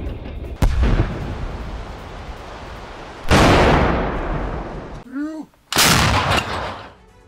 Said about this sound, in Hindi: आर्टिलरी से किए जा रहे हैं यहां पर बड़े हमले।